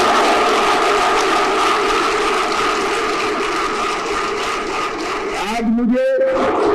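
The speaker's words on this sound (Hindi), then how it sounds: "जोर से ताली बजाकर मोदी जी" A large crowd of farmers at a turmeric board inauguration rally applauds loudly and continuously, with dense clapping and cheering that holds steady, then briefly drops away near the end.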